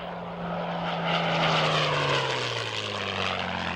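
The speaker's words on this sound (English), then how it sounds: "The Rolls-Royce Merlin engine purrs as the P-51 Mustang moves into attack." A loud, steady propeller-engine drone from a P-51 Mustang's Rolls-Royce Merlin engine, with a deep throbbing hum that swells and then slowly drops in pitch as the plane passes.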